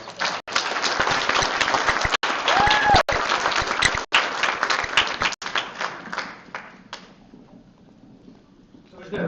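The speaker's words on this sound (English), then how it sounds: "So give them a round of applause" Audience at a gathering on the traditional lands of the Pima and Tohono nations gives a full round of applause for speakers and elders, dense clapping filling the room for several seconds, then thinning out with a few sharp knocks and scattered claps near the end.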